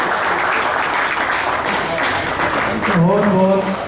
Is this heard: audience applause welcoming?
yes